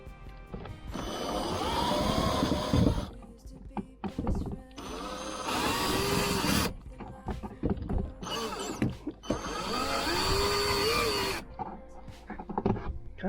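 A power tool grinds in bursts as it enlarges and tapers screw holes in an old leaky water tank, with several loud runs broken by short pauses and clatter.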